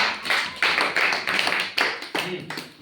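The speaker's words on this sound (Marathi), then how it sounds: "टाळ्या वाजवा." Children in a classroom clapping their hands together, a quick string of sharp, loud claps in rapid, slightly uneven rhythm, close by, lasting a few seconds.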